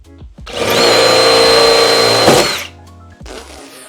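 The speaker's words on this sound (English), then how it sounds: "we're gonna cut it with a hole saw" Hole saw on a power drill cutting through the rear wing mount of a Mazda RX7 FD, a loud rising high-pitched whine and grinding screech for about two seconds that drops off abruptly, followed by quieter clatter.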